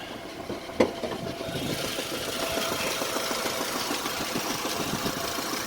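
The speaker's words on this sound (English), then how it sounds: "She's got a heavy knock" Old Mercedes engine idling with a heavy knock, a steady mid-pitched idle with a fast, regular ticking knock running through it, close, following one sharp tap near the start, with no talk.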